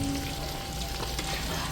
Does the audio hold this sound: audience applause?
no